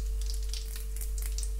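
Dried red chillies and tempering seeds frying in hot oil for a gongura chutney seasoning, a steady close sizzle with faint crackles, no voices.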